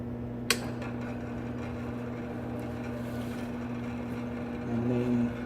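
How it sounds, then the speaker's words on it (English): A Patterson Kelly liquid-solids V blender's main motor runs with a steady, even droning hum after a single sharp knock at the start, and the hum swells slightly near the end. "And the main motor will mix."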